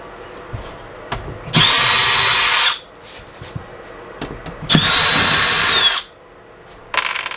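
A power drill backs screws out of a Furion range, with two loud, sustained whirring bursts of about a second each and a third starting at the end, separated by small handling knocks and clicks.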